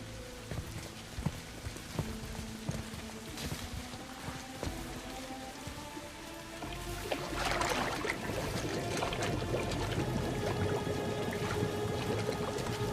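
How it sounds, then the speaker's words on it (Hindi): In a video game, a head is held under water: continuous splashing and sloshing that grows louder and more turbulent midway, with no voices. "अब इसका सिर पानी में डाल के पकड़े रखो और इसे जाने मत देना,"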